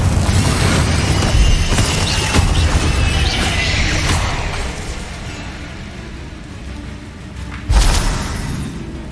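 Hogwarts Legacy spell combat with a dense, loud roar of magical blasts and whooshes, easing off midway, then one sharp explosive burst near the end.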